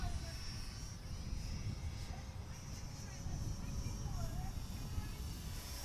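An XK A220 P40 RC micro plane flies nearby, its small electric motor giving a steady, continuous whine with faint tonal sweeps as the throttle shifts, over constant outdoor background noise.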